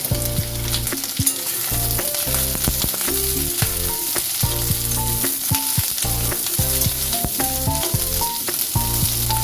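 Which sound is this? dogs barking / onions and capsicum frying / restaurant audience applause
onions and capsicum frying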